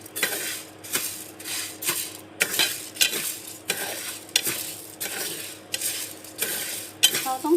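Rice dry-roasting in a pan with herbs, stirred in regular, firm strokes, each a scraping, rattling sweep of utensil against metal over a light sizzle, about one stroke every half second, close and clear.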